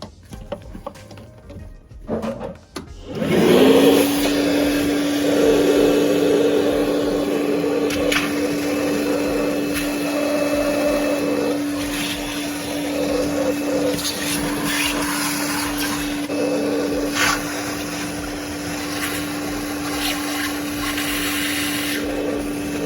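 A wet vacuum starts up close by during a toilet service and runs steadily at a loud, even drone with a constant whine, with small knocks and clatters over it.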